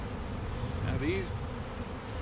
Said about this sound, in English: Wow, there's a lot of bees in there.